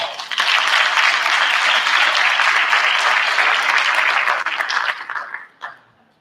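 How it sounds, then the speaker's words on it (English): Sustained applause from an audience at a school board business meeting in a middle school, a dense wash of clapping that holds steady for several seconds before thinning out and ending with a few last claps. "So a very big round of applause."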